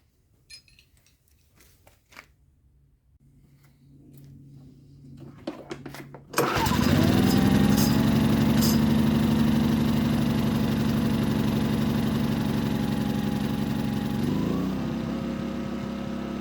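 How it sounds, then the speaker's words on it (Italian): A small carburetted petrol engine is pulled into life after some quiet handling noises, then settles into a steady, loud, even idle that holds without hunting, shifting slightly in tone near the end. "Stavolta il motore gira alla perfezione, non ha oscillazioni, pendolamenti o problemi di alcun genere."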